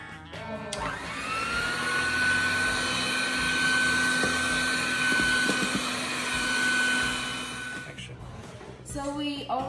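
An electric mixer whirs loudly and steadily while mixing eggs, salt and vanilla essence for a carrot cake. The drone starts and stops abruptly, with a brief voice at the very end.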